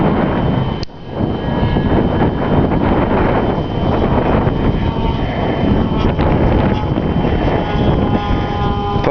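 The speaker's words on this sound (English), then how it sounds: "it's the Cap 232 up in this 25 to now 30 mile an hour wind" Strong, gusty wind roars steadily against the microphone as a Cap 232 aerobatic plane flies in 25 to 30 mph winds, a loud continuous buffeting with a brief dip near the start.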